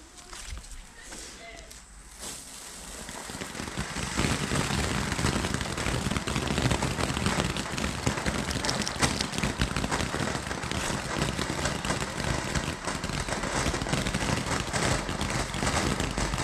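A Will of the Wisp firework fountain burns at a Bonfire Night display, a steady loud hiss and crackle that builds after a couple of seconds and then holds without a break.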